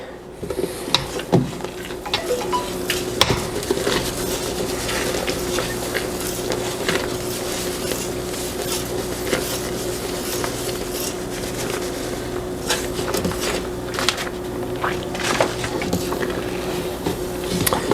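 Corn sugar being stirred into home brewed beer, with a continuous scraping swish and scattered knocks against the fermenting vessel over a steady low hum, close by and without talk.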